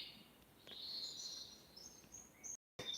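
Faint, high bird song chirps and trills thinly through a quiet night, with a soft insect hum beneath and a brief dropout near the end.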